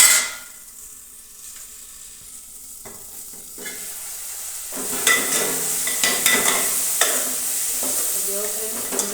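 Onions frying in a pan during home cooking, with a soft stirring start that builds into a steady, close sizzle and crackle from midway on. Nobody speaks.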